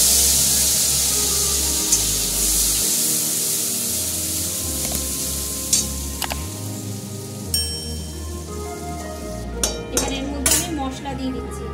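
Spice paste hitting hot oil in a pan after fish has been fried, giving a loud, steady sizzle with occasional clinks of a spoon against the pan and some light talk.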